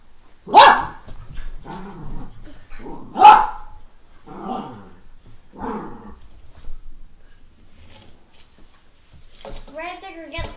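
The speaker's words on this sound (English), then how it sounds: "oh, great, the dog." A dog barks several times in loud, sharp bursts with some growling between them, mixed in with a voice talking.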